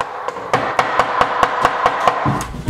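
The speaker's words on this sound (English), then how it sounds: "I'm hitting my crib with a hammer" Hammer striking a wooden crib, a loud close series of about ten sharp even knocks in a steady rhythm roughly every quarter second.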